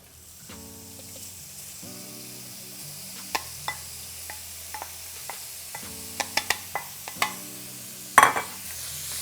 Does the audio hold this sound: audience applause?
no